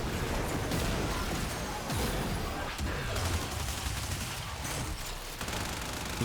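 Soma rifle in the video game Warframe firing in rapid sustained automatic bursts, dense and loud, with occasional heavier impacts mixed in.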